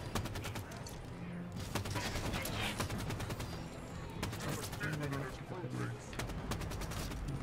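SAW machine gun firing in Halo 5, rapid bursts of automatic gunfire with dense repeated shots across most of the clip, loud and close, mixed with other game battle noise and players talking.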